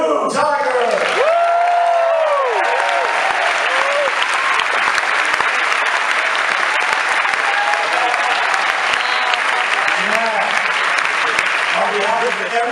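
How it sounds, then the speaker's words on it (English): A large audience at a film premiere event for Man of Tai Chi breaks into sustained, loud applause that continues throughout, with voices briefly calling out near the start. "please give a round of applause for Chen Hu, Tiger"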